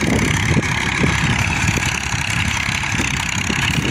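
A 2003 Massey Ferguson 241 tractor engine runs close by at a steady, loud idle with a rapid low chugging pulse and no voices.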